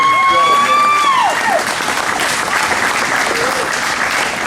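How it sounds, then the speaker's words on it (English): A room of people applauds at a vintage karting Hall of Fame induction ceremony, with sustained close clapping throughout and a voice speaking over the start. "How about that round of applause for Mike and Estina here?"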